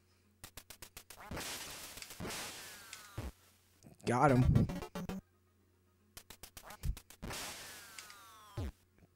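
Ducks quack in the video game Duck Hunt, loud buzzy electronic quacks mixed with rapid clicking flaps and a shot, in several bursts separated by quiet gaps, with a player talking briefly.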